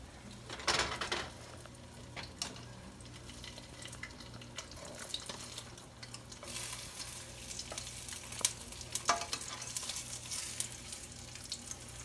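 Breakfast food frying in a pan ahead of cooking eggs, a steady close sizzle with occasional stirring scrapes and small clatters, bursts of hiss rising midway and near the end, no one talking.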